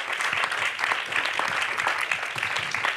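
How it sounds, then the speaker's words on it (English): An audience claps steadily through a film Q&A event, a dense, even round of applause with no voices over it. "Lara Stolman, please, a round of applause."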